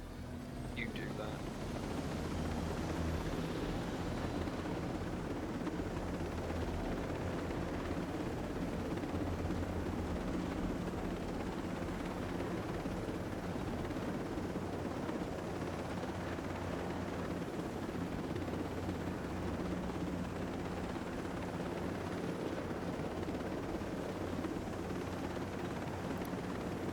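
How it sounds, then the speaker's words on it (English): A helicopter in the video game Ghost Recon Breakpoint drones continuously, a steady low rotor and engine rumble that stays loud and constant, with players' voices talking underneath. "Let me just drive this chopper"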